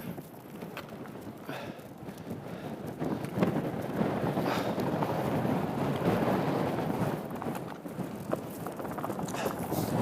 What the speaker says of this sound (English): The wind is really strong and it's been blowing me all over the place